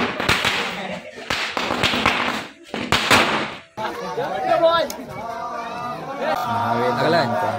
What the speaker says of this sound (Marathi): तर ते सर्वजण आता फटाके फोडतायत